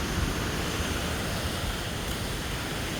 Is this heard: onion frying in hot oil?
no